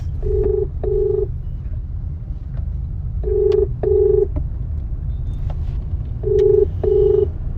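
A phone rings repeatedly in paired electronic tones, three double rings spaced evenly over a low background rumble, with no answer and no speech.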